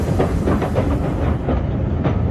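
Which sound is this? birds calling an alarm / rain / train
train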